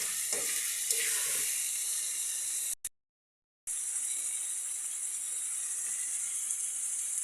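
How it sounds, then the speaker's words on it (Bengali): Water poured into chicken curry frying in a pan sets off a loud, steady hiss and sizzle, broken by a sudden gap of silence before the sizzling resumes. "এর মধ্যে একটু গোলের পানি ঢেলে দেওয়া হবে।"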